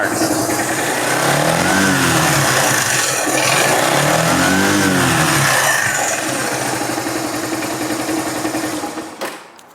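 An old, heavily modified motorbike engine runs loud and close, a steady throbbing rumble whose revs rise and fall in waves before cutting off abruptly near the end.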